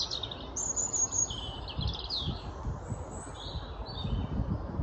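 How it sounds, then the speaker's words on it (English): A robin sings high, bright phrases from a hilltop of rhododendrons, the song fairly faint over a steady wash of outdoor ambience with soft rustling. "being serenaded by the wonderful little robin"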